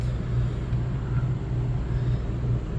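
A Suzuki GSX-8S motorcycle engine with aftermarket upgrades rumbles in first gear, a low steady throbbing drone heard close, holding constant without talk.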